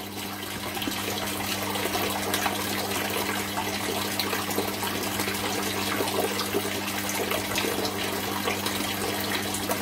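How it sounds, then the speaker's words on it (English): Water runs steadily from a tap into an aquaponic fish tank, a continuous close splashing flow with a low steady hum underneath, no voices. "so I'll go switch the water off"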